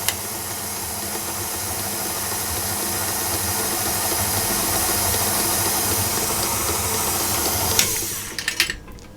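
An electric mixer runs steadily on its slow setting, beating apricot and hazelnut blondie batter with a continuous whirring hum that holds level, then cuts off near the end with a few knocks and clatters.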